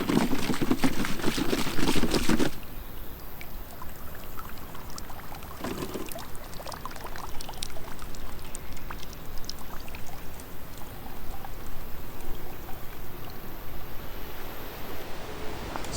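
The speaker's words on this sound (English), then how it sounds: "Use a charcoal to filter your water." Water poured through a charcoal filter outdoors, starting with a loud splashing pour for about two seconds, then a brief second splash, followed by soft trickling and rustling against steady background noise.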